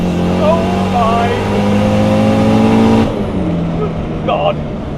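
Home-built Volvo 940 Turbo sleeper, around 506 bhp, pulling hard on high boost, with a loud, steady engine roar for about three seconds that then drops away as excited voices talk over it.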